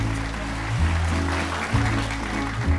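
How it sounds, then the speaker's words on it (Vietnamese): A studio audience at a Vietnamese television dating show applauds a couple steadily and loudly, the clapping continuous over a sustained musical backing. "Vỗ tay chúc mừng"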